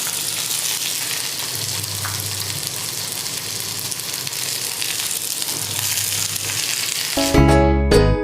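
Green chilies and shallots frying in hot oil with fenugreek seeds for a fish gravy. A steady, close sizzle runs throughout, and a brief metallic clatter of a utensil comes near the end.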